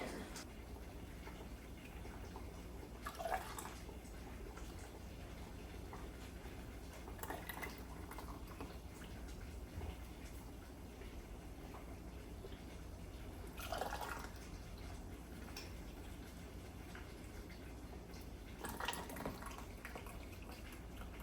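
Homemade syrup for canned blueberries is ladled through a funnel into glass canning jars: four brief, soft, close pours separated by quiet pauses, with no talking.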